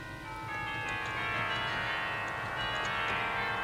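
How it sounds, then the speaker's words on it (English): Tuned tubular bells on the Blackpool Tower Wurlitzer theatre organ ring out in a sustained, shimmering chord with bright overtones, steady and fairly loud throughout with no talking. "a set of tuned tubular bells"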